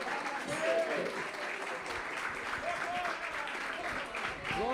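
A church congregation claps along during worship, a broad wash of hand claps under a continuous vocal presence, with a few tonal voice sounds rising through the crowd noise.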